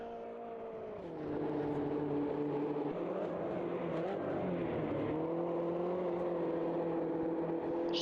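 Mini race cars from a racing video game lap Oulton Park, their engines holding a loud, steady drone that dips and climbs as they shift and brake, one car close behind another throughout.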